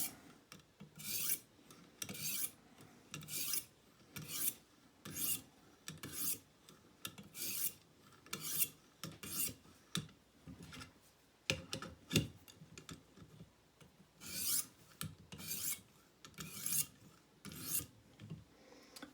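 A Green River Mountain Man knife edge is stroked on a sharpening stone, rhythmic raspy scrapes repeating roughly every second, close and fairly quiet, with no talking.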